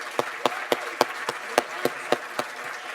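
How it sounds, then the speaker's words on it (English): Audience applause for the Palm Springs mayor and city council at a State of the City event, heard as a crisp, evenly spaced run of about nine sharp claps, close and distinct. "Give them a big round of applause."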